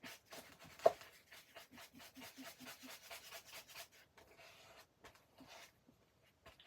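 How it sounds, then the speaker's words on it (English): Big palette scraper spreading paint across a surface, soft repeated rubbing and scraping strokes in a quick rhythm, close and fairly quiet, ending in a few slower drags. "it's very satisfying to do it with a big palette scraper thingy like this"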